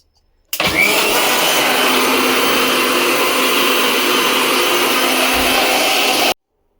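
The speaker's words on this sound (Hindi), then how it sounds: "तो मैं इसे ब्लेंड करती हूँ सबसे पहले।" A blender runs steadily at high power to blend a shake, giving a loud continuous whir for about six seconds that stops abruptly, with no talking.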